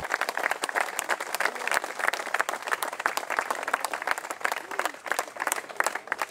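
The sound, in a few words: applause of over 400 supporters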